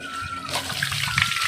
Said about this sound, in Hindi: ये पानी पूरा पेड़ों की जड़ों से आता है। ये ऊपर ये पूरा जंगल है, तो अंदर ही अंदर आता है, और कभी बंद नहीं होता ये पानी